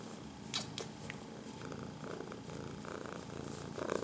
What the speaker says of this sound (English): You hear her purr.